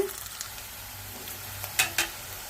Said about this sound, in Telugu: ఉల్లిపాయలు పచ్చిమిర్చి వేసుకుందామండి కరివేపాకు ఉల్లిపాయలు వేగిపోవాలి